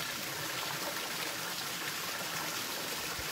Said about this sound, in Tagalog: Yung tubig niya, flowing.